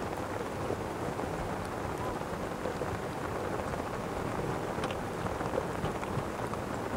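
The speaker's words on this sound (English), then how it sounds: "Peering through the rain." Steady rain falls over a golf course during the South African Women's Open, a constant broadband hiss of drops with faint scattered taps throughout and no voices.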